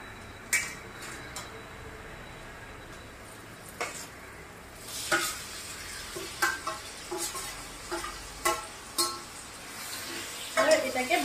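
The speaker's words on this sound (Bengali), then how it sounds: "পেঁয়াজটা আমার মোটামুটি ভাজা হয়ে গেছে, এবার আমি এই চিকেনটাকে আমি ওতে দিয়ে দেব।" Chicken pieces go into a pan of fried onions, giving a quiet, low sizzle punctuated by repeated clinks and scrapes of a utensil against the pan, with faint speech in places.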